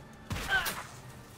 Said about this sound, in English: Oh, sweet fireworks!